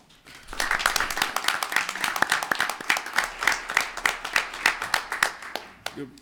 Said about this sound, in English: I'd like to just applaud them